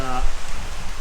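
Dense, steady hiss of heavy rain drumming on a tin shed roof, loud and close, with a brief voice fragment at the start.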